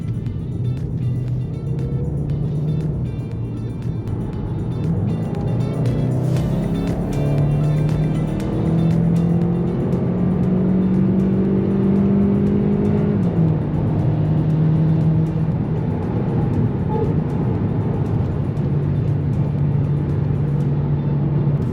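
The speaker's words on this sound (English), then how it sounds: "Let's go for a highway cruise in the GT." 2018 VW Golf GTE plug-in hybrid with a 1.4 TSI, 204 horsepower, cruises on a highway, its engine droning steadily from the cabin with pitch climbing through gear changes over constant road and wind noise.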